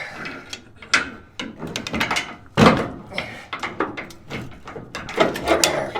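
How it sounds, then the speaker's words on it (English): A pry bar working a part loose during a J10 truck build, heard as scraping, knocks and metallic clunks in irregular bursts, with one louder wrench-like clank midway, close up. "Pry bar."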